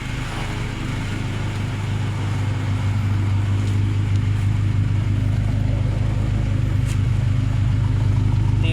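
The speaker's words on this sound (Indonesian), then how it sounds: "Ini kondisi mesin pas nyala ya Bolo ya. Mesinnya halus banget. Khas suara Mazda seperti ini." A 1987 Mazda Elite engine idles smoothly and steadily, a close, even low rumble with a constant throb that holds at a consistent loudness throughout.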